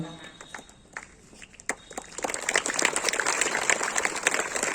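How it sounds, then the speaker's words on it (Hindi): Clapping from an assembled school audience at a Kendriya Vidyalaya annual panel inspection, starting as scattered claps under talk and swelling into fuller applause after about two seconds. "बहुत जोरदार ताली है."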